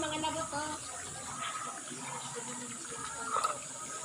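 Water pours down into a creek outdoors, a steady, soft, rushing flow heard at moderate distance with faint voices underneath.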